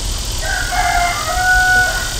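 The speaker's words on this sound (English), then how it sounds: "This is Dragonberry, the Welsummer rooster, and this is his flock." A Welsummer rooster crows once nearby, a drawn-out cock-a-doodle-doo over steady background noise.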